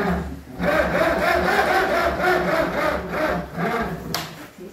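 A 1960s David Brown tractor engine fires up and runs, a close, loud, steady mid-pitched chugging with slight rhythmic pulsing and a brief sharp click near the end, no voices.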